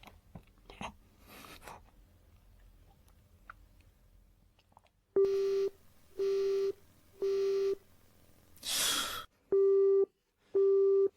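A telephone call failing to connect: faint handling noises, then a steady busy tone repeating in evenly spaced beeps, briefly interrupted by a burst of static partway through.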